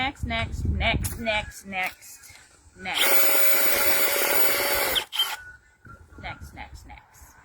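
Talking gives way to a steady high-pitched whine of a small drill running for about two seconds, then speech resumes.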